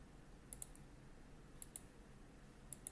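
Mouse clicks in 3D modeling software come in three quick pairs spaced about a second apart, crisp and faint against a quiet room hiss.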